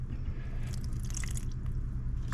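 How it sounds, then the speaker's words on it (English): Water drips and trickles out of a Dometic 8740 macerator toilet under repair, with soft wet splats close by over a steady low background hum. "Some more water coming out."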